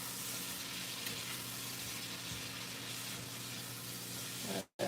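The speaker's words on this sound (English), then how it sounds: "Stir that right in with them other mushrooms." Mushrooms sizzle steadily in a hot pan, a dense, even crackle of frying that runs throughout with light stirring; it cuts out abruptly just before the end.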